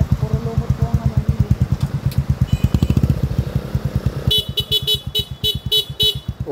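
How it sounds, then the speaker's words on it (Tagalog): A motorcycle draws near on a narrow mossy road, its engine chugging in a steady pulsing rhythm that grows louder as it approaches, with several short horn toots near the end. "May motor din dyan kasalubong."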